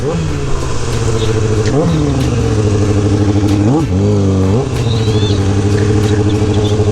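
Motorcycle engines drone steadily nearby, rising in pitch as the riders rev and shift gears, with wind noise throughout.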